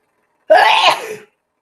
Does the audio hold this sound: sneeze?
yes